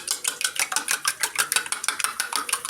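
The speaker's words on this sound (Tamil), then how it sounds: "இதை நல்லா பீட் பண்ணிக்கலாம்." Eggs being whisked hard in a bowl for egg soup, giving a fast, steady run of bright clinking and scraping strokes, close and alone with no talk.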